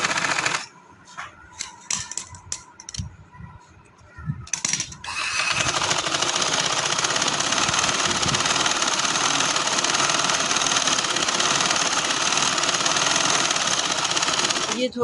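A sewing machine stitches a pink shalwar, first in short stop-start bursts and then in one long, loud, unbroken run close to the listener. Someone speaks briefly during the first bursts.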